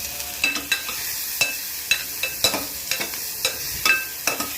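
Garlic frying in a pan for a village-style mixed vegetable stir-fry, with a steady sizzle broken by about a dozen sharp scrapes and clanks from stirring, spaced irregularly and close by, without any talking.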